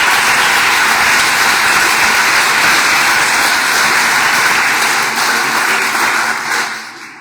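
A church congregation applauds in a broad, continuous wash of clapping that holds steady before fading out near the end.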